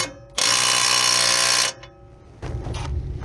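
An old cordless impact wrench on max power with a fresh battery hammers at a stuck bolt on a Toyota Tacoma's rear suspension: one loud, harsh rattling burst of just over a second, then a shorter, weaker rattle.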